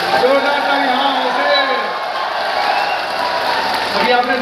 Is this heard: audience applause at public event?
yes